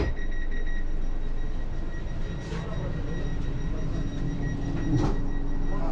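Vande Bharat Sleeper Express pulling out of Kamakhya toward Howrah: a close, steady rumble and clatter of wheels on rails, with brief high squeals around the midpoint and near the end.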